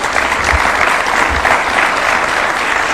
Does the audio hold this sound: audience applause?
yes